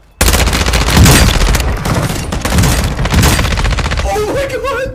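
A fire-element shotgun in a shooter game, letting off a rapid, loud string of blasts that crowd the whole stretch with barely a pause.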